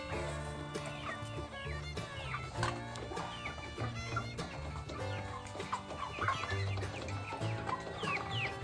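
Hens clucking and squawking in a coop, many birds calling over one another in a steady, busy chorus, close and continuous, in a laying flock whose egg production has dropped.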